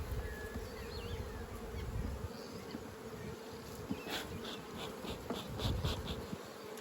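Honey bees hum around a flow hive outdoors, a continuous close buzzing swarm drone with individual bees passing near, steady throughout.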